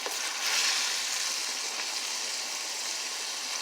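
Tomatoes and meat sizzling together in a pan for a pantry spaghetti sauce, a steady hissing sizzle with no talking, even and close throughout.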